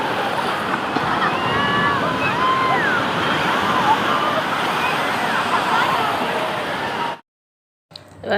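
Surf rolls in steadily on the beach at Puri, a broad continuous wash of breaking sea waves with wind noise, filling the scene for about seven seconds before cutting out abruptly.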